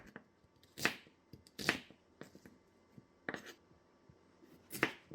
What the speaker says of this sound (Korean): 양파는 먹기 좋게 썰어줘요